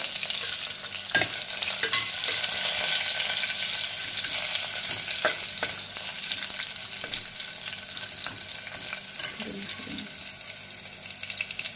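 Whole spices frying with chillies in an oily pan for masala rice, a steady close sizzle with scraping stir strokes and occasional sharp clicks of the spoon against the pan.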